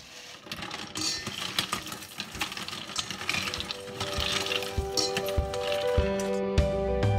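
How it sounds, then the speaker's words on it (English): Potassium and sodium hydroxide lye being stirred into ice water for making shave soap gives clinking and swirling liquid sounds, then a steady mechanical whirr with a tonal hum builds up near the end. "I have my potassium and sodium hydroxide, and I'm going to mix it in my ice water."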